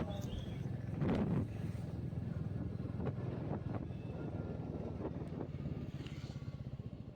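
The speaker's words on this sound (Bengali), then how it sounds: "এখন নৌকায় করে জলঙ্গি নদীর ঘাট পার হচ্ছি" A boat crossing the Jalangi river on a rainy day, its motor droning steadily under wind buffeting the microphone, with faint scattered voices and clunks nearby.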